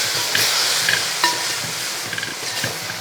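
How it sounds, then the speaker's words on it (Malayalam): Fish curry in a pan is stirred after tamarind water is poured in, a loud close sizzle with scattered scraping clicks of the spoon against the pan and no voices. "പുളി വെള്ളവും എല്ലാം കൂടെ ഒഴിച്ച് അങ്ങോട്ട് ഇളക്കി കൊടുക്കും."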